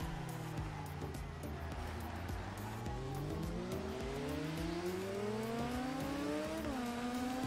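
Racing motorbike in the video game TT Isle of Man: Ride on the Edge roars past with a loud, steadily rising engine whine, briefly dropping in pitch near the end, over continuous road and tyre noise.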